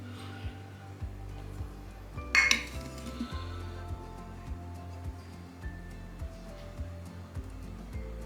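Flour being scooped from a bowl with a half measuring cup gives soft repeated taps and light scrapes of utensil on bowl, with one sharper metallic clink, close and quiet.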